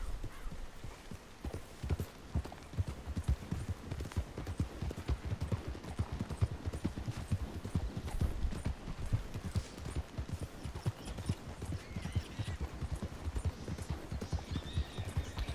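Horse hooves clip-clop at a steady trotting rhythm in the video game Red Dead Redemption 2, close and continuous throughout, with a faint snort or whinny now and then.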